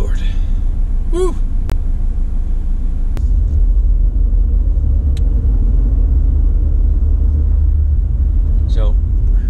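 Car cruising on the outskirts of Nashville, a steady low engine and road rumble inside the cabin, with a few short squeaks and voices now and then.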